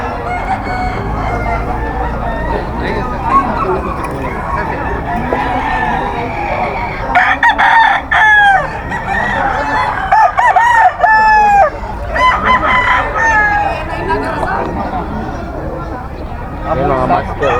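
Gamefowl bull stag roosters crow repeatedly at a seller's market in Bocaue, loud and close, several crows overlapping with clucking, under someone talking throughout.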